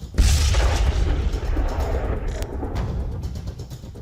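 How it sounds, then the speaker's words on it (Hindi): A petrol pump blows up after an Israeli military strike: one heavy, close blast booms out, then a rumbling roar slowly fades. No one speaks. "हमले के बाद पेट्रोल पंप में भीषण विस्फोट हुआ"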